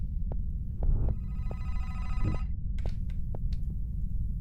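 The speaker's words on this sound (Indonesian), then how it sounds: "Dah ini suara telepon ngeselin banget." An old-style telephone bell rings in the horror game The Vermander Curse, set inside a hospital; one loud ringing burst sounds over a low throbbing ambient hum, with faint clicks before and after.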